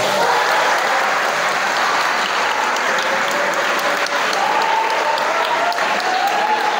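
Loud, dense applause from a seated audience at a Quran memorization school seminar, sustained and close, filling the whole stretch without a break.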